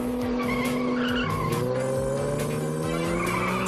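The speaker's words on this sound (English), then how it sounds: "Stop this car, Dinky." Cartoon car tires squeal and skid loudly and continuously, with sliding engine-like tones under the screech. No speech is heard.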